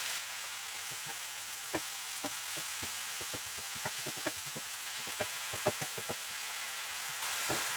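Mushrooms fry in a pan for a quiche, a continuous soft sizzle broken by scattered crackles and pops, close and fairly quiet, with no talking.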